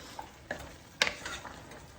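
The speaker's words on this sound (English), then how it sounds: "I'm just going to give them a stir" Liberian-style collard greens cooking in oil get stirred, with a soft sizzle and a few light scraping clicks from the spoon, one sharper clack about halfway, all fairly quiet and close.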